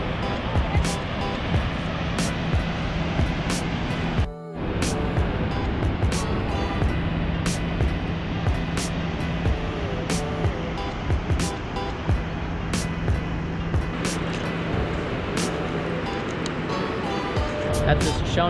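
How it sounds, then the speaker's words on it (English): Shoshone Falls in an Idaho canyon keeps up a constant broadband roar of falling water. Wind buffets the microphone now and then, and a voice talks over it. "That's the Shoshone Falls behind me."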